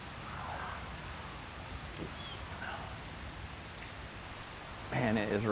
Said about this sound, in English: it has rained a lot in the last 24 hours